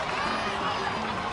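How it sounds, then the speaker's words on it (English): A crowd in the game Genshin Impact cheers and applauds for Kachina, a brief, steady, moderately loud burst of voices and clapping. "Let's give a huge round of applause to our brave young warrior"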